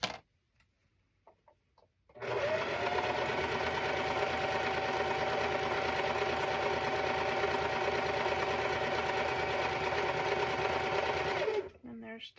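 Sewing machine chain stitching quilt block pieces, a steady fast mechanical whir running nonstop for about nine seconds after a brief quiet start, close and even, then cutting off abruptly.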